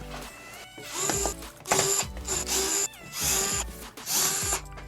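A power screwdriver whirs in repeated short bursts, about four or five, each ending abruptly, removing screws from the back of a plastic DJ Groovin' Go toy, with small clicks and handling noise between, close up.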